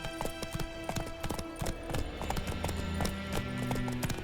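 Hoofbeats of Geralt's horse Roach in The Witcher 3 video game, a steady galloping clip-clop close up that runs throughout over a low ambient music bed.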